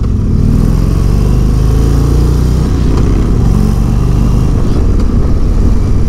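A 2022 Indian Roadmaster motorcycle pulls away under throttle, a loud, close, steady engine drone with a deep low rumble and no voices.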